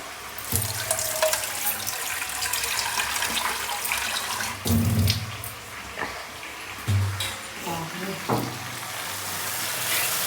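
Vegetables frying in a small kadhai with plenty of oil give a steady sizzling hiss, broken by occasional stirring scrapes and clinks, close up with no talk.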